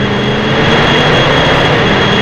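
A jet airplane engine in the 007 Racing video game gives a loud, constant roar that fills the short stretch from start to finish, steady and close, with no talk over it.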